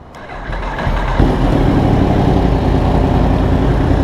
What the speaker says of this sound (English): I really love riding this R1 though